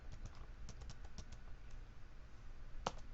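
Keys tapped on a computer keyboard in a bedroom, a quick irregular run of close, light clicks with one louder clack near the end.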